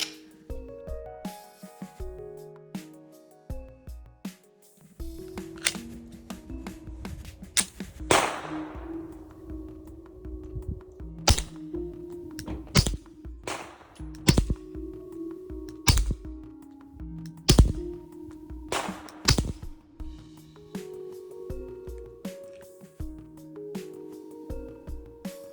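A PSA Dagger Micro pistol is dry-fired again and again as part of a trigger test, giving sharp close clicks of the trigger breaking and resetting, spaced irregularly over a faint background with no speech.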